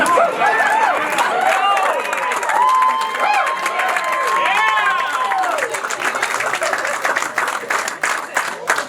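A packed house of supporters claps and cheers at an NFL Draft watch party, with loud, dense applause and excited voices and shouts rising over it close by. The clapping thins toward the end.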